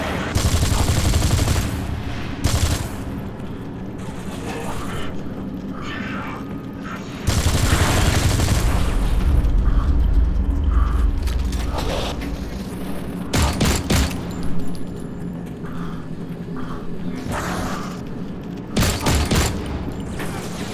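Loud, dense gunfire rattles in the Android shooter game Nova 3, with sustained automatic bursts and heavy booming blasts that continue almost without pause.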